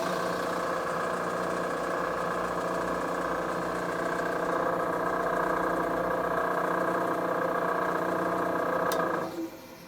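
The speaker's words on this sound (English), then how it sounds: "We're going to power tap a blind hole." A machine motor drones steadily while power tapping a blind hole, an even humming whine that holds for about nine seconds, then cuts off abruptly with a sharp click.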